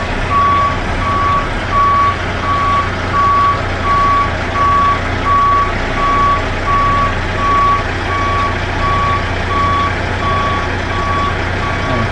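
A tractor trailer truck backs up with a steady, repeating reversing beep over a loud, constant diesel engine rumble, close and continuous throughout.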